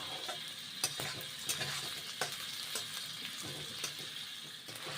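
Okra with onions and chilli frying in a pan, a steady close sizzle with occasional sharp stirring scrapes and clicks, no voices.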